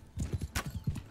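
Horse hooves gallop in the video game Bannerlord, a quick rhythmic run of muffled thuds over about a second, with a brief breathy snort or whinny in the middle.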